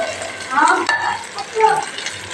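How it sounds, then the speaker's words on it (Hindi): Chicken pieces stirred and fried in a pan with cooked-down tomatoes, a close scraping stir with a steady sizzle underneath and a few louder clattering strokes, no voices. "चिकन की भी हम अच्छी तरह बुनाई कर लेंगे"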